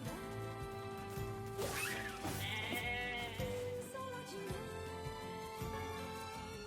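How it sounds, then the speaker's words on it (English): A sheep bleats in the video game NieR Replicant, a wavering bleat over steady game music, with a crash and whoosh of combat sounds nearby. "Isn't there a sheep that ran over here?"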